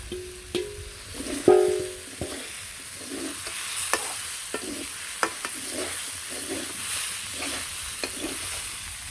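Fish sizzles steadily in hot oil in a pan, with a utensil scraping and tapping against the metal in irregular strokes close by.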